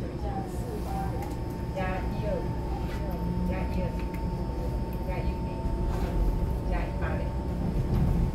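EMU728+EMU727 commuter train on the Yilan line departing Su'ao station, heard as a steady rumbling drone with squealing, whining tones rising and falling over continuous noise.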